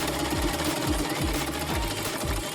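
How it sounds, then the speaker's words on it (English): A sewing machine stitches fabric for a kigurumi-style penguin doll outfit, its needle running in a steady, rapid mechanical rhythm that stays loud and close throughout with no talk over it. "Trim off the excess and start sewing."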